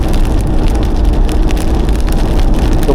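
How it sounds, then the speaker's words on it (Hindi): Steady rain pelting a car on the Delhi–Katra Expressway during a monsoon drive, a dense continuous patter over low road and engine rumble, loud and close throughout with no talk. "बारिश ने हमारा स्वागत करते हुए। मज़ेदार बारिश में आप ड्राइव करते हुए दिल्ली कटरा एक्सप्रेसवे।"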